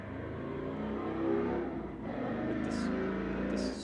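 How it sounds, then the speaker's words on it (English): A loud car revving outside, a steady close engine drone that swells and holds throughout with no talking. "With this super loud car outside."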